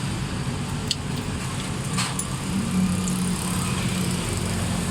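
Idling Suzuki Cultus EFI engine with loose tappets, heard up close as a steady low rumble with a faint ticking layered over it, continuous throughout with no talking.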